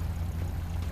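A car engine idles steadily in GTA 5 Online while the car is being parked, a low continuous rumble with no other sounds on top.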